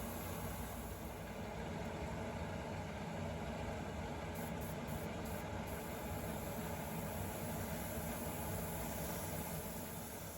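Airbrush spraying metallic paint in light overlapping coats onto a plastic AMT 1960 Ford Starliner model car body, a faint, steady hiss of air that runs unbroken for the whole stretch with no voices.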